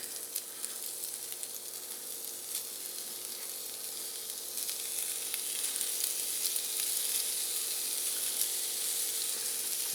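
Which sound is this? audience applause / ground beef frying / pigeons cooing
ground beef frying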